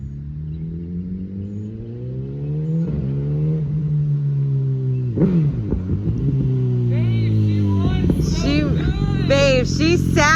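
A BMW S1000RR sport motorcycle engine revs up and down several times, close and loud, rising in pitch with each throttle blip and climbing to a high, rapid revving near the end.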